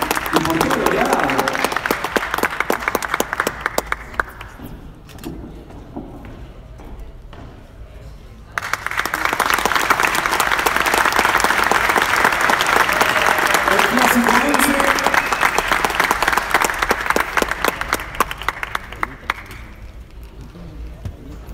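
Audience applause at the presentation of Alessandro Del Piero and the official Barcelona shirt, loud sustained clapping in two bursts separated by a quieter pause, with a voice over the first stretch.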